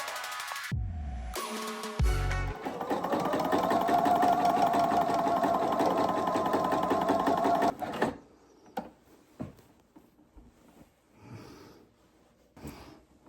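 A sewing machine stitches in one sustained whirring run of about five seconds, close and steady, after a couple of short thumps at the start, then falls quiet apart from scattered faint handling noises.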